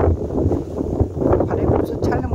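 Wind blows outdoors by the Seomjin River at Hadong, buffeting the microphone with a steady low rumble throughout, and voices are heard beneath it.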